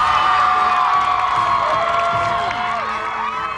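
A television studio crowd on The Biggest Loser welcomes Jillian Michaels with loud, sustained cheering, whoops and rising and falling shouts that blend into one continuous roar.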